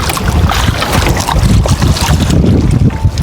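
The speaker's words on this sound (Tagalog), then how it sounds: "Mahangin na." Strong wind buffets a small fishing boat out at sea, a loud continuous roar and gusting against the microphone mixed with water and hull noise, with no pauses.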